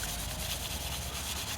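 Hardened body filler on a Nissan Silvia is sanded by hand in a steady, continuous rasping rub, close and uninterrupted, with no talk.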